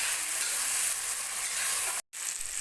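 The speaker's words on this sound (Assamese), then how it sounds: "আৰু এতিয়া এইখিনি অলপ ভাজি থাকিম।" Cumin, ginger and garlic paste with turmeric frying in a pan for a fish curry, giving a steady close hiss and sizzle with a brief silent gap near the end.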